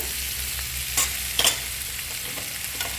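Onions sautéing in hot oil with mustard seeds and cumin for dal daliya khichdi, a steady close sizzle with a couple of brief stirring scrapes, no voices.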